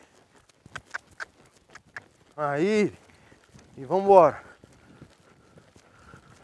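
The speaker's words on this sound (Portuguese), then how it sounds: "Vou pedir um galope aqui." A horse breaking from a trot into a gallop, its hoofbeats sounding as light, rapid thuds early on, with someone talking over them.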